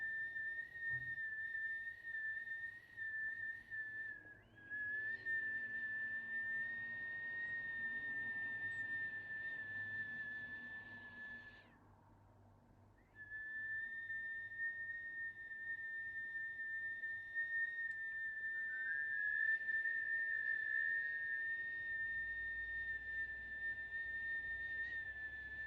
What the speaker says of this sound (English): Inhaling, whistle breath, exhaling through the nose.